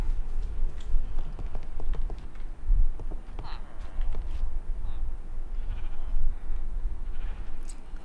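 Sheep bleat in a crafting survival video game, sounding as several short, mid-pitched calls scattered over a steady background of low ambient noise, with some faint clip-clop-like tapping and no talking.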